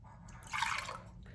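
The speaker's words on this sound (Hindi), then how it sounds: "ये पानी हम इसी में डाल देंगे बाउल में।" A brief splash of water poured into a bowl, a short gush that rises then trails off, close and fairly soft.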